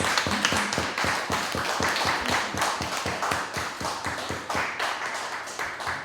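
Rhythmic, evenly spaced clapping from a poetry-night audience welcoming a featured poet, steady and close, with a light wash of applause around the beat.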